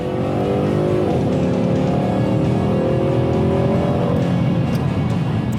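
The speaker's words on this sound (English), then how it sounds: "Unlike cars where they mute the engine noise, this car actually brings it out and you hear it and it's visceral" A 2015 Ford Mustang GT's engine roars steadily and loudly as the car accelerates, its pitch rising in smooth sweeps with no speech over it.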